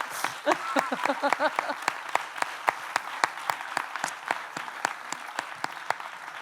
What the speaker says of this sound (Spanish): Un aplauso para la organización que se ha pegado un currazo